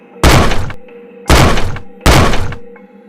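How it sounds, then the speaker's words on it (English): Three heavy, evenly spaced knocks thud against a surface as a horror sound effect, each a loud booming thump over a low eerie drone. "I heard 3 soft knocks."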